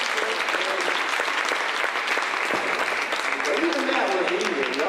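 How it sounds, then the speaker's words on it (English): Continuous audience applause at a G.I. Joe film event in Berlin, full and unbroken throughout, with voices and cheers mixed in. "This is the chance to give you an even bigger applause"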